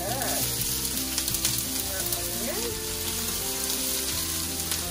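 Onion and smoked pork sizzle steadily in a hot pan, a dense continuous frying hiss with faint crackles and occasional stirring, while music plays underneath throughout.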